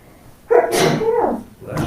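A woman sneezes once, loudly and up close, during a county supervisors meeting, with a brief sharp intake before the burst.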